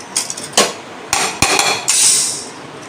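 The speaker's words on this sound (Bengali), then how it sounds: "এখন আমি ঢাকনাটা খুলে দেখব।" A metal lid lifted off a cooking pot of duck meat, giving several sharp clinks and clanks followed by a brief hiss of escaping steam, with no talk over it.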